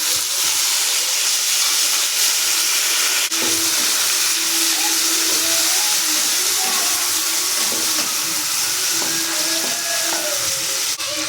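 Tomatoes hit hot oil spiced with cinnamon, cardamom and asafoetida and give off a loud, continuous close-up sizzle and hiss, with faint clinks, while preparing aloo dum to serve with luchi.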